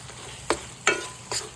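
A pan of eggplant and potato curry gravy with garam masala being stirred, three quick scraping strokes of a spoon over a faint sizzle, close and brief.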